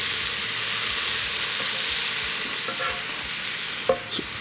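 Two tablespoons of butter melting in a Ninja cooker pan, a loud, close, continuous hiss of sizzling with a faint clink near the end.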